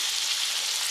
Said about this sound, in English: you see it's going to sizzle in there